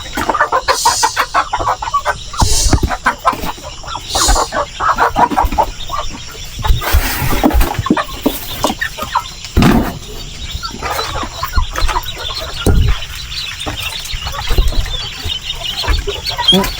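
A flock of Rhode Island Red chickens on a farm clucks busily while pecking at bananas. Close, overlapping clucks and squawks come in irregular bursts, with occasional louder calls.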